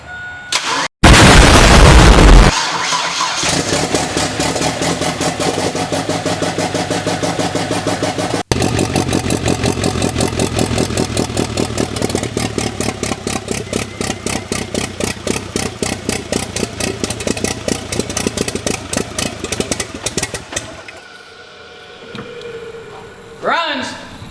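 A rebuilt Ford EcoBoost engine cranks briefly, fires and settles into a steady, loud idle with a rapid even pulse that holds for about twenty seconds before cutting off, voices heard around it.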